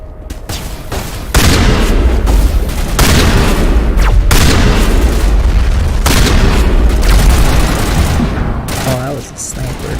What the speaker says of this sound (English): Oh, that was a sniper.